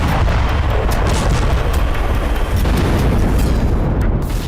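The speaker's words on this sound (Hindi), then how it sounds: "जोरदार धमाकों के साथ उठता आग का गुबार।" Loud rumbling explosions from airstrikes on residential areas in Lebanon merge into a dense, continuous roar with heavy low booms throughout.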